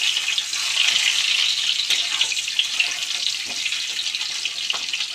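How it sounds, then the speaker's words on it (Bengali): Boiled potatoes frying in hot mustard oil for vegetarian aloo dum give a steady, close hiss and sizzle with faint crackles and small stirring clicks throughout. "আলুটা আমি ভেজে নেব।"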